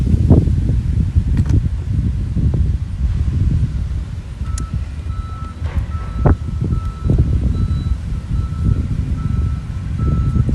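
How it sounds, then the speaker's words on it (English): Outdoors, wind buffets the mic with a constant loud low rumble and rustle, broken by a few faint higher tones in the background. "Woo, wind."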